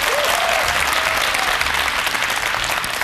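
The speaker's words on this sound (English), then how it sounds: "Round of applause for our guest judge." A studio audience on an education talk show applauds a guest judge with steady, loud, close clapping that lasts the full three seconds.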